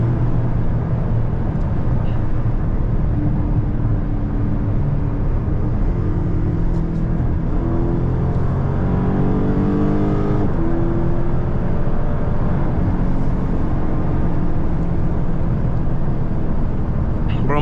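A Last Call 392 Hemi car accelerates on a highway, its engine note rising in a sustained drone with steady road and wind roar throughout.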